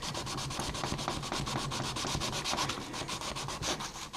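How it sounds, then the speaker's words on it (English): A guitar pick is polished by hand with wet-dry sandpaper, giving a steady scratchy rubbing in quick back-and-forth strokes, close and continuous throughout. "Pressure on it and in and out. This is wet dry sandpaper"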